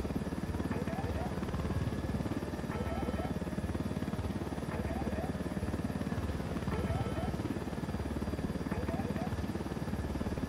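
Helicopter flight in the video game Ghost Recon Wildlands: a constant, moderately loud rotor drone runs throughout, with faint repeating game beeps and some speech.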